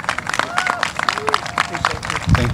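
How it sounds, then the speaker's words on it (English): Indoor audience at a MADD National Day of Remembrance event applauding Senator Lujan, a brief burst of rhythmic clapping with a few voices mixed in, ending with a low thump. "Please give him a round of applause."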